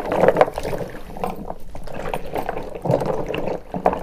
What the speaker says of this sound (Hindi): गाजर को हमने अच्छे से धो लिया है